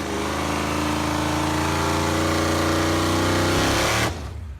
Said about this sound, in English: Driving an eardrum battering Holden Ute enlivened with a blown 406 Chevy engine